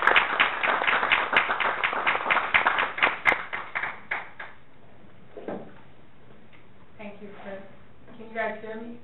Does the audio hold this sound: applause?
yes